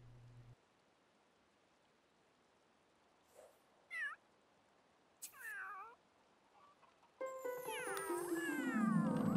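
Cats in The Sims 3 give two short separate meows, then break into loud, continuous overlapping yowling and caterwauling that grows louder toward the end.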